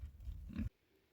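Pigs grunt softly in a rural countryside field, a faint low rumbling burst of grunts that cuts off abruptly, followed by quiet.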